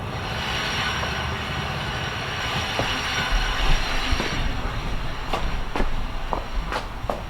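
Vanagon converted to a Tesla electric drive motor under the lightest throttle, a steady mechanical whine and hum close by with scattered clicks and a faint squeal, and no voices.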